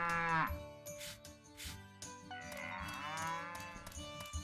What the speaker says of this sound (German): dann kümmern wir uns jetzt mal um die Kuh. Die macht nämlich immer regelmäßig Mo.